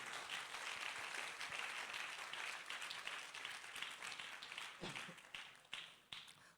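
Church congregation applauding together during a sermon, a dense sustained wash of claps that thins and tapers toward the end, with faint voices underneath.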